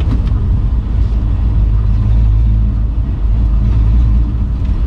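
A 1968 Ford Torino on a test drive down the road, its engine giving a loud, steady, close low rumble that holds throughout with no pauses.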